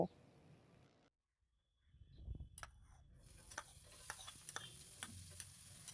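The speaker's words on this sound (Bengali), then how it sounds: "এবার ফ্রাইং প্যানে 1 চামচের মতো সাদা তেল দিয়ে রসুনটাকে ভেজে নেব।" Crushed garlic frying in about a spoonful of white oil in a frying pan, with a soft sizzle and scattered crackles and ticks after a brief silent pause.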